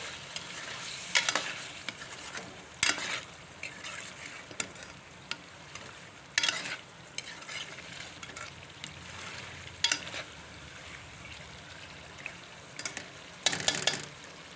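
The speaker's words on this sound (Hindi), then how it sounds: "पाँच मिनट इनकी भुनाई करती हूँ, टमाटर कच्चा पानी ख़त्म हो जाएगा।" Tomato paste and chopped green chilies sizzle in a pan while a spoon stirs and scrapes at intervals, producing a steady close frying hiss punctuated by sharp clinks against the pot, without talk.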